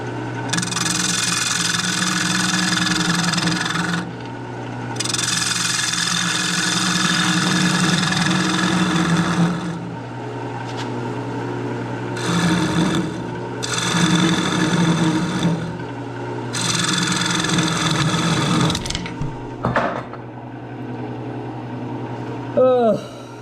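Wood turning on a lathe with a carbide cutter, a steady motor hum under repeated scraping passes that start and stop over several seconds, loud and close, ending with a few knocks.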